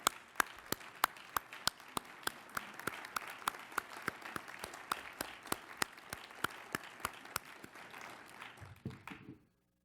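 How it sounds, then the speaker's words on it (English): A conference audience applauds steadily for nearly ten seconds, a dense wash of clapping with sharp individual claps standing out, before it abruptly stops. "let's have a round of applause for the Fogarty Center"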